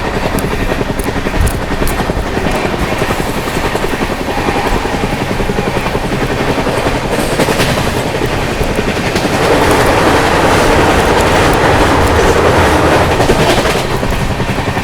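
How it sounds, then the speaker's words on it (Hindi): The Lal Kuan Amritsar Express rushes past on the rails, a loud, sustained roar with rhythmic clatter of wheels, heard close from another train and swelling toward the end. "सामने से आ रही है लाल कुआं अमृतसर एक्सप्रेस"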